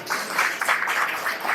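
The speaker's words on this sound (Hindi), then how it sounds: "एक बार आप सब अपने लिए जोरदार तालियां बजाएं" Audience applause at an astrology gathering, a dense, steady wash of many hands clapping together for the whole short stretch, fairly loud and close.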